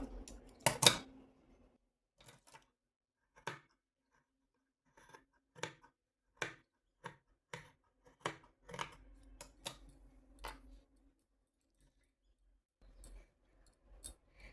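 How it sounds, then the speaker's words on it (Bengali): Scissors snipping away extra cloth while making a small dress for a Laddu Gopal idol: a string of sharp, separate cuts spaced irregularly across a quiet room, close and fairly faint, no voices. "এরপরে এই এক্সট্রা যে কাপড়গুলো বেরিয়ে রয়েছে এইগুলো এখন আমি কেটে নেব।"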